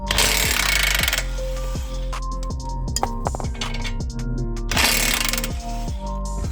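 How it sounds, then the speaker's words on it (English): An impact wrench loosening a 19mm nut on the front suspension of a 2002 Toyota MR2 Spyder hammers in loud, dense bursts, with a long rattling run at the start, choppier bursts mid-clip and another sustained burst near the end. "I'm going to go ahead and use an impact on the nut side"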